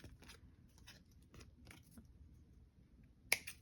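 Paper being cut at an angle with scissors, a few quiet snips spread out in near silence, with one sharp louder click near the end.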